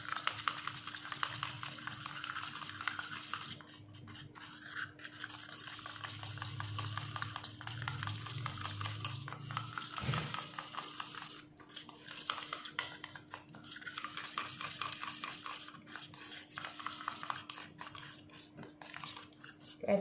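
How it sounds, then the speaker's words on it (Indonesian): A homemade face powder mixed with a few drops of olive oil is stirred in a small dish, faint repeated scraping and clinking of a utensil against the container over a low steady hum. "Kita aduk lagi bahannya."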